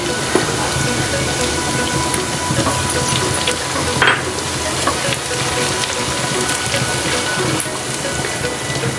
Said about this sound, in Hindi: 1 टेबल स्पून अदरक लहसुन का पेस्ट। इसे अच्छे से भून लेते हैं।